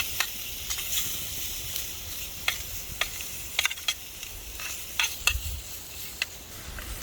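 Smoked sausage frying in a titanium pot over a Dakota fire hole, with a steady low sizzle broken by scattered sharp clicks and scrapes of stirring, close by.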